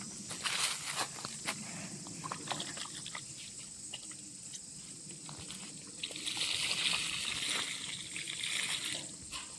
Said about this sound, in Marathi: दादा पुन्हा एकदा झाडांना पाणी घालतोय